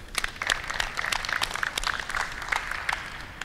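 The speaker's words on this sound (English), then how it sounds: "we'll give these guys a clap" Rugby players at a development training session clap for teammates, a small group of distinct, sharp handclaps in a loose, uneven rhythm, close by and moderately loud.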